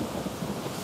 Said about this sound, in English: Raining cats and dogs here.